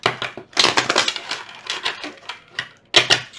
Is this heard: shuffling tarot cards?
yes